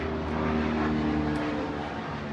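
A low-flying aircraft about 500 feet over a house produces a steady droning engine hum with a sustained tonal drone. It is moderately loud and continuous, with no voices.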